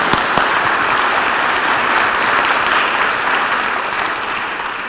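Audience applause at the close of a talk on vaccine Nanopatches for the developing world: loud, dense clapping that carries on steadily with no voices over it.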